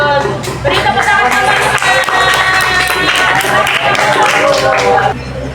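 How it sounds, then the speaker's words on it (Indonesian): A classroom of students claps together, a loud dense burst of hands that holds steady for several seconds before stopping abruptly, with some voices mixed in. "Beri tepuk tangan"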